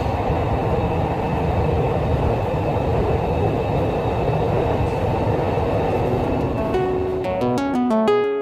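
Inside a train carriage, a loud, steady rumble and rattle run throughout as the train moves, and a few clear chime-like tones ring out near the end.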